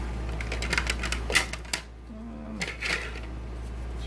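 Small metal clicks and light scraping as a padlock is worked with lock picks, a series of close, quiet taps and ticks with a brief squeak partway through, over a steady low hum.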